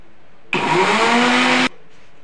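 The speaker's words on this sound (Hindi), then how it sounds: "अब इसमें मैं थोड़ा सा पानी डालूंगी और एक बार ग्राइंड करके फिर इसमें डाल दूंगी" Mixer grinder whirring loudly as it grinds dosa batter with added water, a single steady burst of just over a second that starts and stops abruptly.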